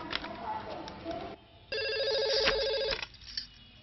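A telephone rings for a call in a Telugu film, a bright electronic ring tone in one sustained burst, preceded by brief talking and indoor scene sounds.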